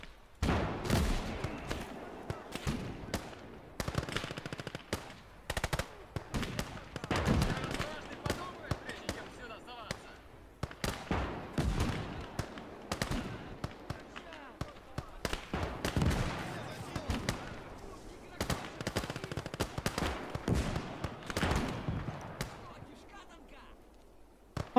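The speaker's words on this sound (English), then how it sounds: "With their PPSH machine guns, they could do much" Bursts of PPSh submachine gun fire in a 1941 battle near Moscow, repeated rapid volleys with a few single shots, loud and fairly close throughout.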